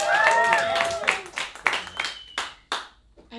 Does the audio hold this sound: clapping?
yes